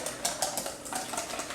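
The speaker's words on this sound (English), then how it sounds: "I'm going to whisk them until they're smooth" Sour cream and egg whisked together in a bowl give a quick run of rhythmic clinks and scrapes, close and steady with no voices.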